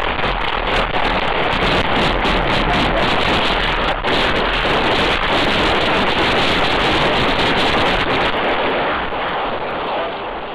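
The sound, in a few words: gunshots in surveillance video outside a bar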